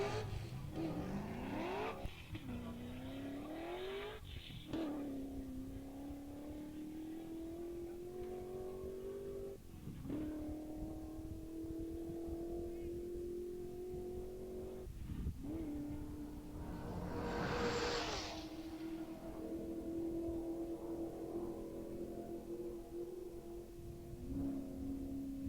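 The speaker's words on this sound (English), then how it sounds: "Dennis Mader has been released in his 2000 BMW M Coupe." A 2000 BMW M Coupe race car pulls away, engine revving up through several gear changes, each rising whine broken by short shifts, steady and moderately distant, with a brief swell of tire or crowd noise midway.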